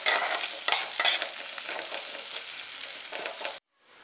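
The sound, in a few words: crushed garlic frying in oil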